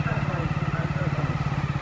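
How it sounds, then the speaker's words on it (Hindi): A motorcycle ridden one-handed along a muddy road between Durga Puja pandals in Ballia, its engine thrumming in a steady, rapid pulsing rhythm, close and continuous throughout. "एक हाथ से बाइक चला रहा हूँ"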